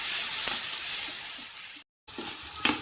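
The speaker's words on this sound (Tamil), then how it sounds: "வெங்காயம் தக்காளி நல்லா வணங்கிட்டு இருக்கு" Onion and tomato sautéing in a pan for parotta salna give a soft, steady sizzle with a few scraping stirs, briefly cut to silence before the frying resumes.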